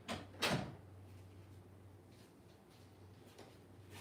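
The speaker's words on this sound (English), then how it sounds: "Let me shut my door." A home door being shut during a live craft stream, with one soft thud near the start and faint clicks afterward in a quiet room.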